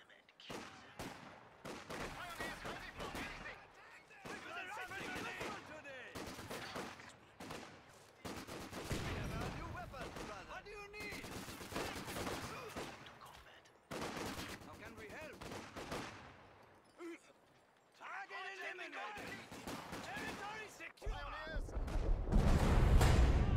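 Intermittent bursts of small-arms and heavier gunfire in a Company of Heroes 2 battle, scattered volleys rising and falling over about twenty seconds with unit voice lines mixed in and a deep rumble near the end.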